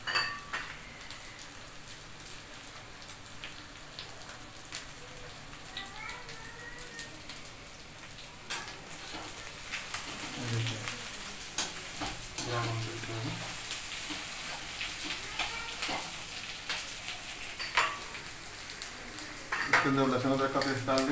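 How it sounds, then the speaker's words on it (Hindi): Soybean chunks frying in a pan for a soyabean biryani, a steady crackling sizzle broken by scraping and clinking as a spoon stirs them, with someone talking over the cooking. "5 मिनट तक इसको भूनिए ताकि सोयाबीन अच्छी तरह लाल हो जाए"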